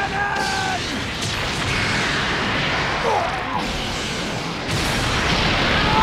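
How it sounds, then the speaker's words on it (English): The Special Beam Cannon attack fires in a video game, a crashing, roaring energy blast with booming impacts and mechanical whooshes, loud and sustained for several seconds. "Special beam cannon!"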